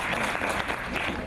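Audience applause at a staged press-review sketch, a dense, steady patter of clapping that fills the short stretch without a break.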